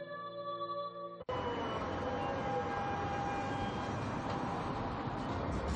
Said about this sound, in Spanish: Si algo tiene tradición en Valencia, es el tranvía.